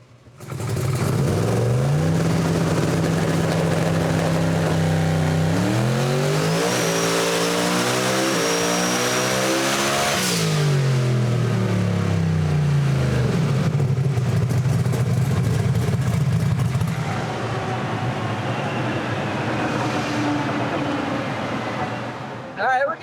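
A boosted Camaro race car engine roars loud and close, revving up repeatedly as it climbs through rising pitch sweeps, then settles into a steady drone before the revs ease off at the end.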